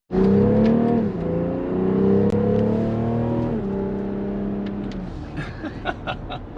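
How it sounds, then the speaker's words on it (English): A BMW six-cylinder engine revs hard and close, pitch climbing and dropping through gear changes, then settles as a downshift brings a scatter of crackling exhaust burbles. "you definitely hear that 6-cylinder engine much more than the other one. A little bit of burbles there too when you when it downshifts"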